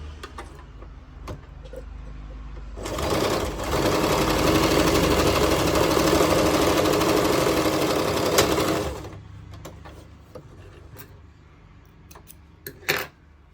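A sewing machine stitching a seam on a churidar pant, whirring loudly and steadily for about six seconds between quieter stretches with faint clicks and handling noises, close up with no talking.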